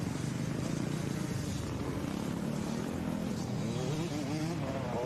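A women's B class Super Mini motocross bike at a Lake Sugar Tree Grand Prix race, engine held at full throttle, roaring loud and steady throughout with a rising whine near the end.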